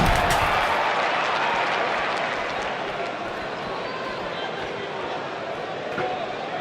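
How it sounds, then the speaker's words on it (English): Wrestling arena crowd in St. Louis applauding and cheering, a loud, dense roar of clapping that fades slightly and then holds steady. "Another great crowd here in St. Louis"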